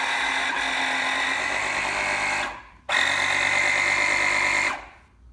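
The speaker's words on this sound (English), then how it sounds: "The compressor pumps the line" A Rancho MyRIDE air suspension compressor pumps air into the line with a loud, steady electric whir up close. The whir cuts out briefly, then restarts and runs on before stopping.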